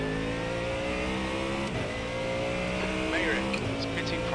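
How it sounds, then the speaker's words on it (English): A Ford Mustang GT3 race car engine in the iRacing video game drones steadily at high revs, with shifting harmonic tones and brief gear changes, a faint tire squeal, and talk running over it. "The sound of the Mustang is very gratifying."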